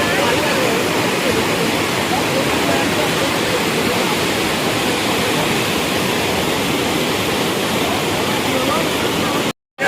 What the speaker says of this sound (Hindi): ऊपर साइड में पानी का बहाव और यहाँ पर भी टूटा हुआ है।